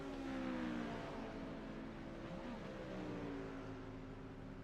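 A Corvette GT3 race car engine in the iRacing sim held at its limit in sixth gear, a steady high drone with slowly rising and falling harmonics, constant and fairly loud, with no talk.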